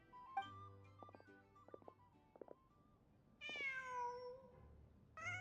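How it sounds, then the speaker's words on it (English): A cat in the video game Genshin Impact gives a few clear meows, mostly alone over faint game music, with soft tones early and two louder, drawn-out meows near the end. "Just a cat."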